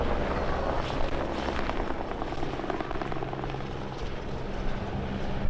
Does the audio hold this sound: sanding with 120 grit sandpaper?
no